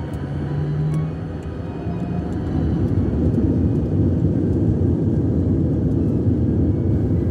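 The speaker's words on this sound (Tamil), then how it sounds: "இப்போ ரன்வேல ஓடிக்கொண்டிருக்குது." Heard from inside the cabin, a passenger airliner runs along the runway at Singapore with a loud, steady engine rumble and roar that swells partway through, no voices.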